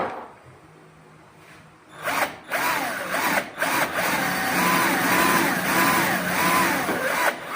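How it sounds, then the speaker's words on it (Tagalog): A power drill bores holes for a bolt, its motor whining in repeated rising and falling bursts near the microphone after a quieter start, with short pauses between runs and no talk. "drilling holes, like for example sa butas ng let's say, example lang dito para lagyan ko ng bolt."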